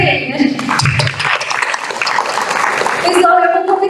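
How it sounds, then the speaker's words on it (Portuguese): Audience applause for a speaker at a university event, brisk clapping lasting a few seconds with voices talking over it toward the end. "Palmas para ele, né, gente?"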